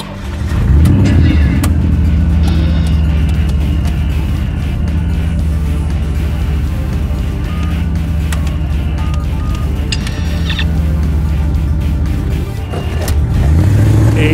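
The car engine of the Seattle Time Machine revs loud and close, a steady throaty roar that holds for the full stretch with small surges near the start and end.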